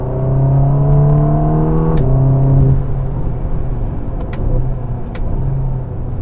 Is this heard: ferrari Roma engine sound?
yes